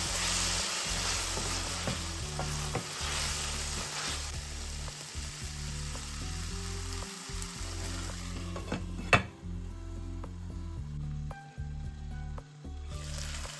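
Turkey berries (sundakkai) fry in oil with tamarind, giving a steady close sizzle with occasional soft stirring scrapes and one sharp clink near the end, with no voices.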